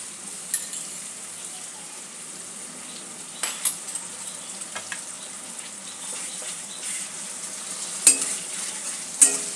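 Ginger and spice paste fries in a pan for a cauliflower curry, a faint low sizzle broken by soft scraping stirs and occasional clinks, close by and with no talk.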